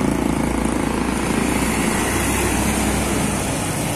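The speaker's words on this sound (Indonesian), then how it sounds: "Melintas ini unit bus Horizon" A Horizon SR2 HD Prime tour bus passes through city traffic, a dense, loud, steady engine and road roar that holds throughout without a clear rise or fade.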